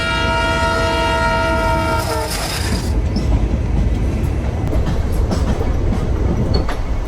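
A passenger train rolling along rails in India toward Saharanpur, loud and steady from close by, with a sustained horn-like tone early on that cuts off, then continuous rumble and clatter of wheels.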